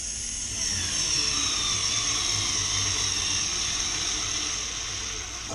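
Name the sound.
Parkside 4V cordless screwdriver driving into hardwood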